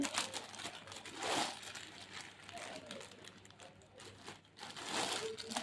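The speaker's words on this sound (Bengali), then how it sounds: "নুডলসের প্যাকেটটা কেটে নিচ্ছি" Plastic noodle packet being cut and handled up close, with crinkling and rustling bursts in several waves, heard under a speaking voice.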